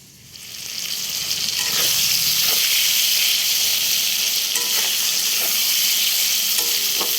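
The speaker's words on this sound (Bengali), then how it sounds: "সব কিছু দিয়ে একটু নাড়াচাড়া করে এবার পোস্তটা আমি দিয়ে দিচ্ছি" Spices and poppy seeds fry in a pan with a loud, steady sizzle, while a utensil scrapes and stirs through the mix in several short strokes close by.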